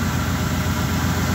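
A 1985 Ford with an EEC-IV CFI system idles steadily, its low, even engine rumble and vibration continuing close by and unbroken, with no talking over it.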